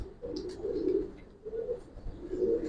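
Giribaz pigeons with solid black tails coo in low, rolling phrases, several soft bursts close by with no voices.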